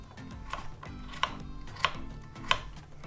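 A knife dices potatoes into one-centimetre cubes on a cutting board, with a few distinct knocks spaced about half a second apart, over a low background hum.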